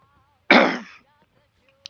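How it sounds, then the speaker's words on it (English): A single harsh cough, close and fairly loud, lasting about half a second, with quiet surroundings and a faint click afterward. "you might hear me cough from time to time"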